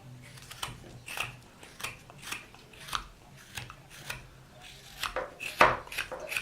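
A knife trims carved wood on an Uncle Sam bolo tie, making a series of short, crisp cutting snicks in an uneven rhythm, close and fairly quiet.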